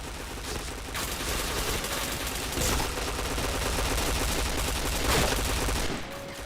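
Rapid gunfire in a shooter video game comes in dense bursts that run almost nonstop, loud and close, with a few sharper cracks standing out.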